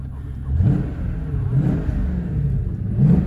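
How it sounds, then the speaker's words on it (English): A Ford Mustang SN95 with 260,000 miles gives a low, steady exhaust drone and rumble that swells in a few gentle surges, heard close and fairly loud with no talking. "The droning from the exhaust in this thing."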